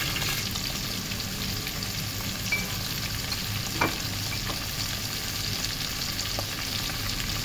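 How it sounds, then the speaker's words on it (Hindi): Mutton liver sizzles and fries steadily in a hot pan, with occasional stirring scrapes and small pops, no voices. "कलेजी मटन कलेजी इसको मैं अब भूनूंगी"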